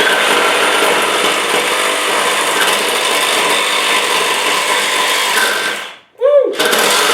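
A DeWalt DCS386 cordless reciprocating saw with a wood blade cuts through wood in one continuous, loud, buzzing stroke for about six seconds. It cuts off abruptly, followed by a short rattle.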